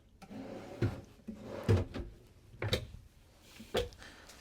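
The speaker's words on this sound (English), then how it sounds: "Get a couple more of these pull-out drawers." Several pull-out drawers in a 2025 Newmar Ventana 4037 motorhome slide open and shut one after another, each ending in a soft thump, close by with no talking.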